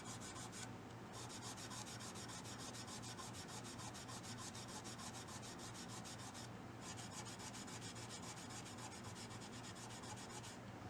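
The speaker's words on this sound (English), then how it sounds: "I like to start off with these burgundy Scotchbrite pads." Steady abrasive scrubbing of a burgundy Scotch-Brite pad on electric guitar frets, a continuous close rasping rub with a quick back-and-forth rhythm and no voices.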